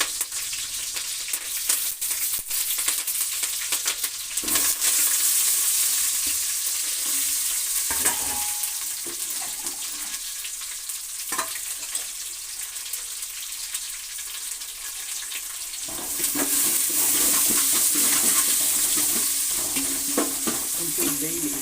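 Greens frying in a hot tempering with onion and a chilli, a continuous loud sizzle with occasional scraping stirs of a spoon in the pan, the hiss swelling near the end, no talk.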